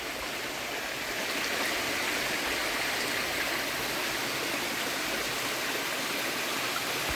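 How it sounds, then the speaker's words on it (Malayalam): A perennial stream flows beside a plot of cardamom-growing land, giving a steady, close, broadband rush of running water that holds unchanged throughout with no voices. "നമ്മുടെ സ്ഥലത്തിൻ്റെ സൈഡിൽ കൂടെ തന്നെ ഒഴുകുന്ന ഒരു തോടാണ് ഇത് വറ്റാത്ത തോടാണ്"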